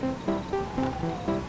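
A person imitating a goose honk with their voice produces a few short, nasal honks in an uneven rhythm, close and fairly loud with nothing else heard.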